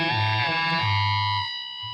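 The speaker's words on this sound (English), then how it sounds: "That is the invisible third note that I just showed you all." Two clashing guitar notes ring out together, bending slightly so their pitches wobble against each other with a steady beating pulse, passed through a distorted, effects-heavy tone; short, loud and alone.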